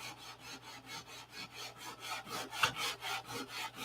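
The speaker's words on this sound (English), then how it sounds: "you have to take a little block like this, and you have to sand out all those shiny spots" A small sanding block rubs back and forth over a painted surface to knock down shiny spots, a close, rhythmic scratchy stroke repeating about every half second with no speech.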